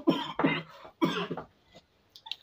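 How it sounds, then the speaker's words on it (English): Three hard, close coughs in quick succession from a man, followed by a quieter throat clearing, with no talk over them. "Don't mind the coughing."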